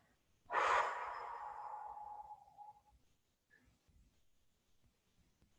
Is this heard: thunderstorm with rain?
no